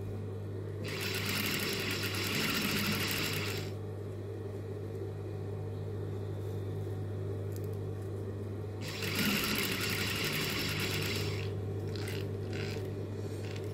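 A sewing machine stitches the chest section on the front of a sleeveless top with elastic, running in two steady, buzzing stretches of a few seconds each, close and clear over a low hum.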